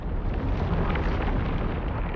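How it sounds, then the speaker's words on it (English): A deep, sustained rumble with heavy low-frequency roar, loud and continuous, from a massive explosion as the bombed Flight 103 came down on a residential area. "it's actually the first signs of a massive explosion"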